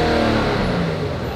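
A stock Nissan 370Z engine revs hard and continuously, a loud steady roar held with little change.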